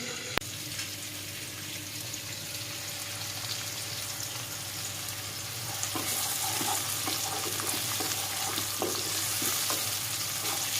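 Garlic, shallots and chili fry in plenty of oil in a pan, a constant sizzle and hiss that grows a little louder partway through, with occasional faint stirring clicks and no talking.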